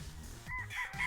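A rooster kept for chicken breeding crows once, a short close call rising over a low background rumble of farmyard noise.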